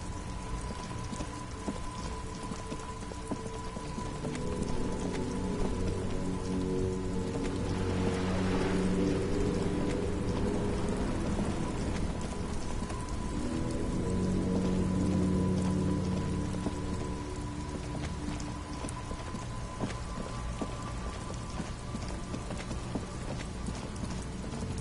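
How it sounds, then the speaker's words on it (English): Steady rain falls in the game Disco Elysium, a continuous patter with a low hum of traffic beneath that swells in the middle before easing back, with no voices over it. "Stuck in the rain in a traffic jam"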